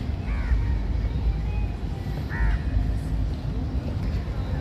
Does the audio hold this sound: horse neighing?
no